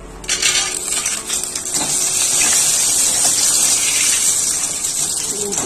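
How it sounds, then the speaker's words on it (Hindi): Peanuts frying in hot oil for poha chivda namkeen, a loud continuous sizzling hiss with crackling pops, close and steady with no talk over it. "मूंगफली को फ्राई कर लेते हैं।"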